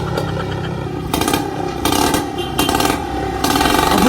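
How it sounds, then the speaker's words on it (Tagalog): A motorcycle engine revs in loud, close bursts, three or four sharp throttle blips rising over a rough idle, with clattery mechanical noise between them. "anong klaseng motor yan?"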